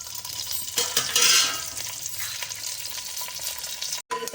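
Dried red chillies and curry leaves tempering in about two spoons of hot oil for fenugreek-leaf dal, a steady close sizzle and crackle with a louder burst early on and a brief break near the end, no talk.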